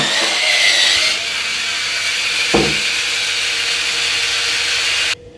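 A Dovety electric spin brush runs at high speed, a steady whirring, scrubbing hiss up close that holds even with a short knock partway through, then cuts off near the end.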